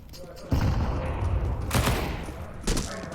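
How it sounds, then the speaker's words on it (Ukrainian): Gunfire from a Counter-Strike match on the Dust 2 map in a tournament final: sharp bursts of shots at about half a second, just under two seconds and near the end, over loud continuous game noise. "пробує постріляти і забирає Демко, робить два ключових фраги"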